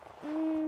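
A video game airplane horn gives one steady, sustained tonal blast after a brief quiet moment, holding evenly at moderate loudness until it cuts off.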